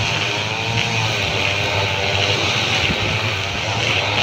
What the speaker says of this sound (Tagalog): pampasahirong eroplano yan